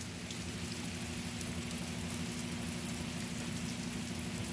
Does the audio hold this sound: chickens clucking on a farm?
no